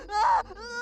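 A woman cries out in labour pain inside a mud-walled hut, a single strained, rising wail that peaks and then breaks into a shorter moaning continuation.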